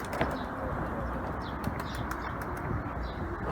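Soft, low pigeon coos murmur under a busy outdoor wash, with a few faint flutters and chirps scattered through.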